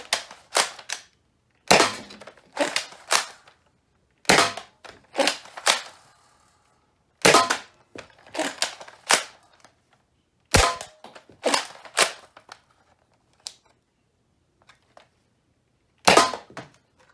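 A FaZe Clan Respawn toy blaster fires red X-Shot rounds in loud, sharp snapping shots, some in quick clusters of two or three and others single, with short silent gaps between bursts.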